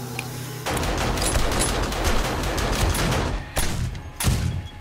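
Weapons firing in the video game 7 Days to Die: loud, rapid gunfire starting abruptly after a short lead-in, continuing in dense bursts, then a few separate shots near the end.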